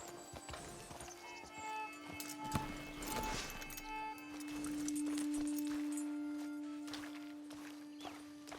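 Horse hooves clip-clop at a slow walk as a rider arrives at camp in Red Dead Online, soft and fairly close, over a steady tonal game-music hum.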